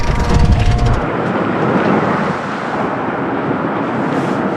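Strong gusty wind on a sailboat, a loud broadband rush battering the microphone, with a brief tonal hum at the start fading into steady roaring wind.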